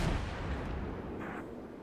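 Naval artillery guns firing in World of Warships, a heavy booming blast at the start that rolls off into a long low rumble and fading echo, loud and with no talking.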